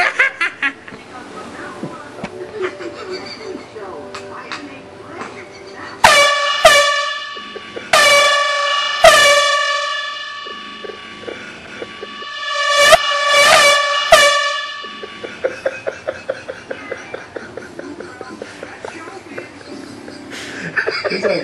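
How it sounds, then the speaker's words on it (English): Loud air horn blasts sound in two bursts of long and short honks, each cut off sharply, with chuckling and talk in the quieter gaps before, between and after. "he will get Airhorn."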